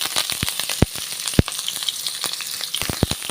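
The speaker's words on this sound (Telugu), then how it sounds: "ఇప్పుడు మనం కట్ చేసుకున్న ఎర్రగడ్డలు ఉన్నాయి కదండి, అవి వేసేసుకోవాలి" Chopped onions hit hot oil already seasoned with mustard seeds and cumin, giving a loud close sizzle broken by sharp popping spatters at irregular intervals, with no voices.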